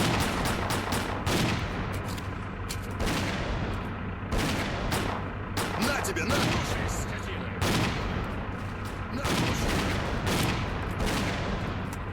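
Repeated heavy shotgun blasts in S.T.A.L.K.E.R. Clear Sky, loud and close, fired in an uneven series of booming shots with a steady low game hum underneath and occasional speech mixed in.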